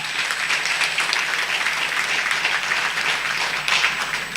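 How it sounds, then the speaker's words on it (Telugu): A large audience at a Vaishya community political gathering breaks into loud, sustained applause, dense, even clapping continuing throughout without pause. "మీరందరూ కూడా గట్టిగా చప్పట్లు, ఒక ఉత్సాహం."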